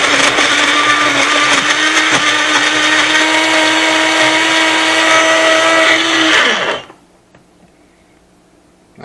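A blender whirs loudly and steadily for over six seconds, grinding homemade catfish bait with a strained motor whine and slight pitch wobble, then spins down and stops, leaving near silence.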